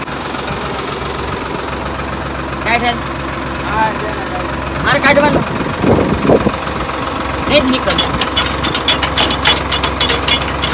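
A tractor engine idles with a steady low chugging rumble while people talk nearby over it.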